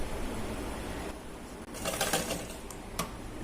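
A sewing machine runs steadily while stitching a crossed seam on a baby girl's dungaree skirt, a continuous mechanical whir with a brief pause and a few sharper clicks near the end.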